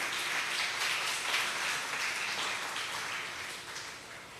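A church congregation on Women's Day applauding with a dense, steady wash of clapping that fades slightly toward the end.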